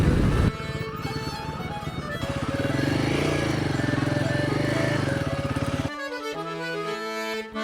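Dirt motorcycle built for mud riding, its engine revving loud and close with rising and falling pitch through most of the clip, then easing to a steadier idle near the end.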